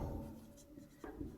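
A pen writes on paper while an accounting problem is worked out: a short, close, continuous scratchy stroke with small bumps of pressure, heard alone without talk.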